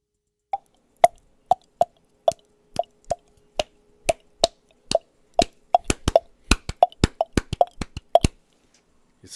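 A Eurorack modular synth plays short, plopping bloops in a tresillo-based pattern, starting evenly spaced and then growing denser and faster. The notes are clear and isolated against silence.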